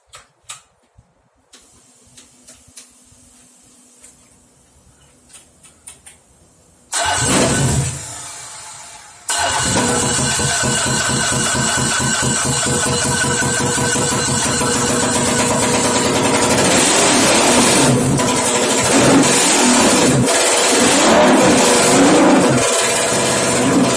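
A Nissan 300ZX Z32 twin-turbo VG30DETT engine on a run stand cranks after a few quiet clicks, catches with a loud roar, stumbles briefly, then restarts and holds a rough, loud idle with rising revs, close up.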